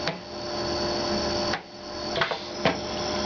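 Adjustment clicks on the lift setting of an SK5 AN weld head, several sharp small clicks spaced irregularly over a steady mechanical hum.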